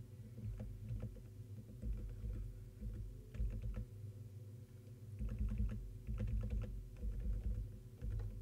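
Soft computer keyboard keys are pressed in scattered bursts and short runs at close range over a low steady hum, with no talking.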